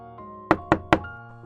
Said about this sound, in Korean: 문을 두드리는 소리가 났습니다.